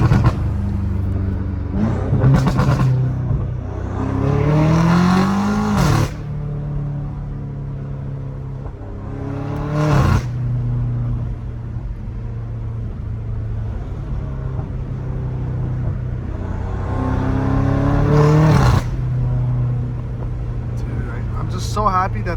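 A BMW M5 Competition with a catless exhaust revs in repeated bursts, its engine rising and falling several times with pops between pulls, loud and close, while people talk over it.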